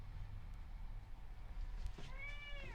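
A house cat indoors gives a single drawn-out meow near the end, faint against a steady background hum.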